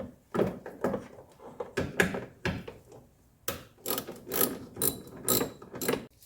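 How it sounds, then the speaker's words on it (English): A ratchet with an 8mm socket clicks in quick bursts while loosening a glow plug relay on a 1984 Mercedes 300SD, close and moderately loud, with brief pauses between strokes. "to get this relay out of here, it just takes a 8mm socket"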